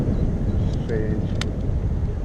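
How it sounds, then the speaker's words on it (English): Wind buffets the microphone in a constant low roar during a bike ride, with a few faint tones and a brief click on top. "At least these edges are stopping that wind a little bit."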